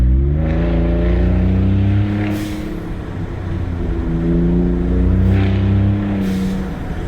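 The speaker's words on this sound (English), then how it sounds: "Hear that shh? That's the turbo dump." A 2020 Ford Raptor pickup revs hard and releases its turbo with two sharp airy hisses amid a loud, droning engine, heard close with no talk.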